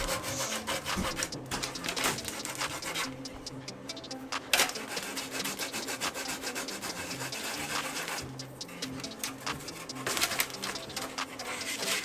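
A finger rubs paint on the body of a 1941 MB scale RC model, a steady, close dry rubbing that continues throughout with faint scratchy strokes and no talk.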